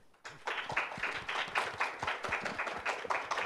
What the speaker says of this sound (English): Give all the speakers applause.